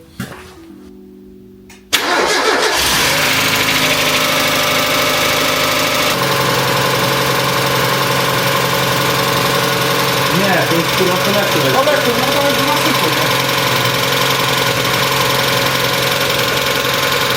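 An old car engine, run after an oil change following an engine flush and after 13 years in a barn, cranks and catches, then runs at a loud, steady idle with a rough mechanical rattle; a voice speaks briefly over it.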